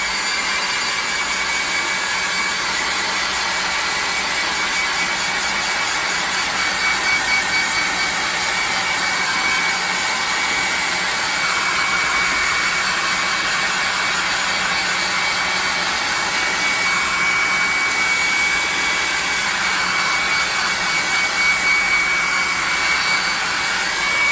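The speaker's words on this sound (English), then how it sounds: "We're going to hit this with a hair dryer" A steady, loud broadband blowing roar runs continuously with a constant airy hiss, no talking, like a hair dryer running close by, drying a handmade cleaver.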